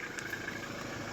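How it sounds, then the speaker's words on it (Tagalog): A 2019 Toyota Innova 2.8G diesel with an automatic gearbox and 36,000 km idles steadily nearby, a constant low engine hum with a faint high whine and no talking. "Ganda ng tunog ng makina mga boss."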